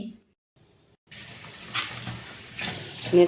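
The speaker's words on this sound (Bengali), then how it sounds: "আমি আলুটা আমি ধুয়ে নেব ভালোভাবে" Cut potatoes and pumpkin pieces being washed in water. A brief near-silence gives way to close splashing and swishing water with irregular louder sloshes toward the end.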